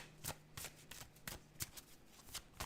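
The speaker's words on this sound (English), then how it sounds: "I'm actually gonna pull another oracle card for you" A deck of oracle cards being shuffled by hand, a run of about nine soft riffling snaps in steady succession, close and fairly quiet.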